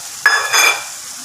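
Tamarind water hits a pan of crab masala cooking in oil, giving a brief loud hiss that surges twice and then fades to a low simmer.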